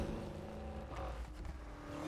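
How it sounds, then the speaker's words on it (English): A steady engine roar from an offroad Mustang Foxbody in Need for Speed Heat hums throughout at a constant level, with a faint whoosh of motion and no voices. "this car's engine sound is nice"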